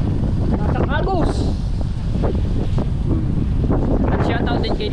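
Heavy wind from Typhoon Kristine buffets the microphone in a constant roar, with faint voices and rushing floodwater underneath.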